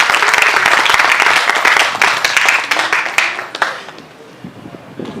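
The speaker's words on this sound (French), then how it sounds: "J'aimerais que l'Assemblée les acclame pour tout ce qu'ils font pour les élèves." Audience applause at a community assembly event, dense clapping filling the room for several seconds before fading out toward the end.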